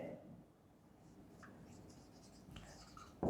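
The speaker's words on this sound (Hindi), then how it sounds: "फिर भी हम लिख रहे हैं" Soft scratchy handwriting strokes, faint and continuous, during a statistics lecture, with quiet room noise around them.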